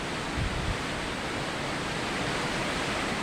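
Typhoon winds roar over a rough sea, a dense, constant rush of wind and breaking waves with heavy microphone buffeting, loud and unbroken.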